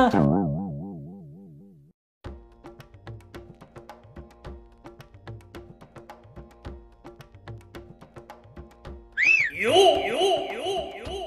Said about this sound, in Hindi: ये सीटी किसने मारी